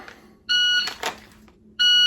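Shot timer used in dry fire pistol practice gives two loud, sharp electronic beeps, one early and a second about 1.3 seconds later, with faint handling noise between them.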